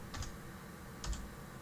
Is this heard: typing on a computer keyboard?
yes